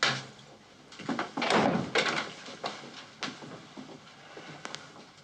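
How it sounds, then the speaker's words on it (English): A door is pushed shut indoors with a scraping swing and a couple of thuds, followed by a few light knocks and shuffles in a quiet room. "Close the door."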